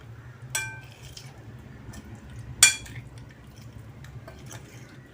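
Marinated paneer cubes are mixed in a bowl, with two distinct clinks of a utensil against the bowl over a faint, soft shuffling of the mixing, close and quiet, with no talking.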